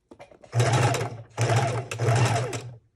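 Junk journal pages being stitched on a sewing machine in three loud, close bursts of rapid whirring, separated by brief pauses.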